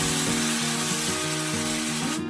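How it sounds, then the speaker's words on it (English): Shrimp added to melted butter in a hot pan, giving a loud, steady sizzle with some faint clinks and a low background hum, no voices. "let's go ahead and add our shrimp. If it's not sizzling, it's not hot enough."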